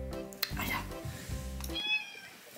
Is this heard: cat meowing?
yes